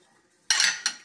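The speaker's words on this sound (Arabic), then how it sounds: "نخلطو الشلاضه نتاعنا مزيان" Utensils clatter against a bowl while tossing a Moroccan salad, two sharp clinking bursts, the first longer and louder, the second brief, close and alone after a quiet start.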